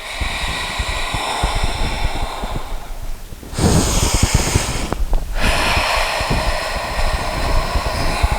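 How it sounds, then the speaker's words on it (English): A long, breathy exhale during yoga breathing practice, loud and close, with a rushing burst of breath in the middle of otherwise steady airy breathing and no speech. "Long exhale."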